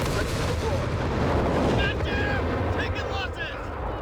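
Nebelwerfer rocket artillery barrage in Company of Heroes 3, a continuous rumbling roar of impacts and blasts with crackling bursts, close and loud throughout.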